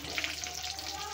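Red chillies and asafoetida crackle and sizzle in hot oil in a pan while making pumpkin chutney, a steady close frying hiss throughout.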